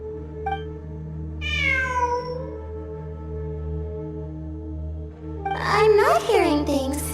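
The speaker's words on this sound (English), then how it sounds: "I'm not hearing things. It really is a cat." A cat gives a single drawn-out meow, clear and fairly close, over a steady musical drone, and later a higher, wavering, childlike voice briefly cries out.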